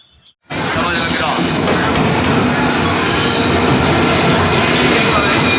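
Utsarg Express passenger train pulling into platform 1 at Ballia station, running about an hour late; after a brief quiet moment, loud steady rumble and wheel squeal of the arriving coaches fill the rest, close by and continuous.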